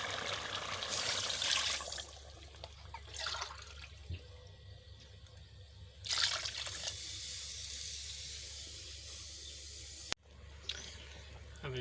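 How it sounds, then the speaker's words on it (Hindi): Rice tipped into a pot of boiling water for chicken yakhni pulao, with bursts of pouring and splashing water over a low steady bubbling, plus a sharp knock near the end. "ये पानी उबल रहा था, अभी डाल दिए चावल डाल दिए।"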